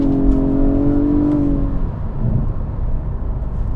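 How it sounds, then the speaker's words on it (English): A V6 engine in a 2021 Nissan Maxima SR revs with a steady droning tone that holds, then settles back into a lower rumble, heard close and alone. "you need this V6 mainly. This is a gem of a motor, of course. Sounds really good,"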